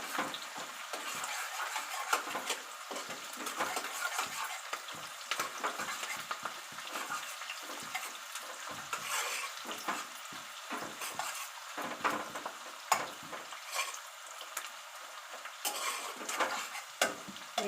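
Onions frying in a pan and being stirred, a steady sizzle with repeated scraping and clinking of the spoon against the pan throughout, close and continuous, with no talk.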